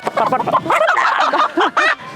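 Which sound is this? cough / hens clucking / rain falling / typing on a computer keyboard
hens clucking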